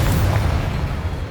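A Bombarda spell blast in Hogwarts Legacy: one heavy, booming explosion with a dense low rumble that starts at full force and slowly fades across the whole brief moment, with no voices over it.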